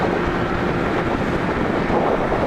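Strong outdoor wind buffets the microphone at a Houston motorcycle bike night, a loud, continuous low roar and rumble with no speech heard.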